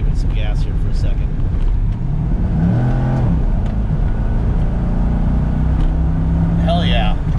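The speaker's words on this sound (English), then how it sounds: "I'm going to give it some gas here for a second." A 2003 Chevrolet Corvette accelerates on the road, its engine note rising through a loud rumble under heavy wind noise, with a voice talking over it.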